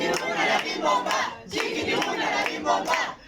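A book-launch audience chants a rhythmic Mexican porra in unison, with loud group voices in two bursts close by and some hand claps mixed in.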